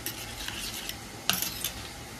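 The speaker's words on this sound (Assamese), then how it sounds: "চামুচ এখন লৈ মই এই মছলাখিনি ধুনীয়াকৈ সিটি দিলোঁ" A spoon stirs spices mixed with a little water and coriander powder in a pan for mutton curry. A low steady sizzle runs throughout, with a sharp scrape of the spoon near the end.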